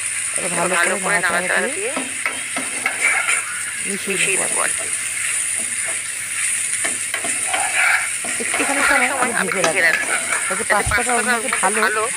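Pasta with small prawns tossed into a hot pan, a steady sizzle with stirring scrapes running under continuous talking.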